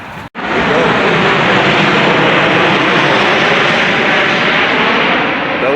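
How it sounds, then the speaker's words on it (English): A low-flying jet airplane roars overhead, a loud, continuous broadband rush that stays strong and steady for several seconds after a brief gap at the start. "These planes fly low."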